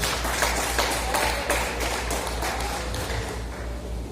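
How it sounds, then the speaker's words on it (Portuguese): A church congregation at a healing and deliverance service claps to welcome the pastor, dense continuous applause with a steady beat, filling the room, loud and sustained with no clear voice on top. "Recebe ele com palmas bem alegres para Jesus"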